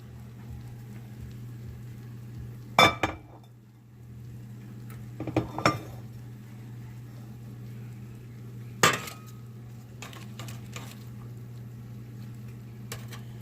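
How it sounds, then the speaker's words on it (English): Chicken wings dropped into a bowl for tossing, a few sharp clattering impacts spaced apart, close and clear over a steady low hum, with no talk. "I'm going to put the chicken wings in a bowl so we can toss."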